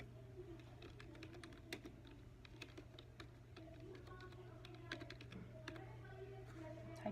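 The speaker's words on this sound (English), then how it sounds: "Typing in the patron's name" A computer keyboard clatters with irregular, quiet keystrokes as a patron's name is typed at a school library checkout desk, over a steady low electrical hum.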